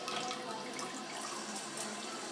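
Steady spray of water from a Japanese electric toilet's bidet nozzle, a continuous close hiss with no talking.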